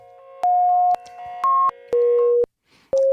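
Sustained synth tones fed through a Kajita multi-tap delay into a reverb, sounding as a sequence of clean pitched notes with sharp attacks, each ringing out with a reverberant wash, loud and alone.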